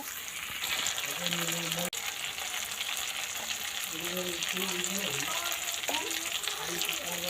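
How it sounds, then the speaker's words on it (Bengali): An egg dish sizzles and fries loudly and continuously in a pan as it is sautéed and stirred, with a faint voice talking underneath. "দিয়ে ভালোভাবে একটু কষিয়ে নেব"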